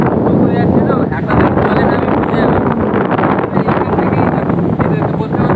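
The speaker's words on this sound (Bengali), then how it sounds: "সমুদ্রের পাশে প্রচণ্ড জোরে হাওয়া রয়েছে" Strong wind buffeting the microphone by the sea, a loud continuous roar with gusty surges, and no clear talk over it.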